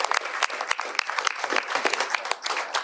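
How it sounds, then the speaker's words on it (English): Applause from an audience at a governor's bill signing, a dense, steady patter of many hands clapping close by, with a few voices faintly mixed in. "Round of applause, everybody."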